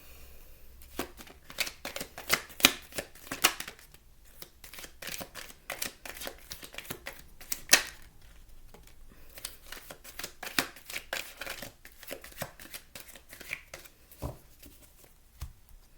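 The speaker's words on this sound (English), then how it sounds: "one more shuffle" Tarot cards being shuffled by hand in a quiet room, a long run of crisp riffling flicks and soft patters in uneven bursts, close and fairly quiet, with no talking.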